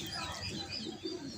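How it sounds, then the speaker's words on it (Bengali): A blue pigeon kept at home gives a short, faint, muffled coo against a low background hum. "আমার বাসার একটা নীলা কবুতর"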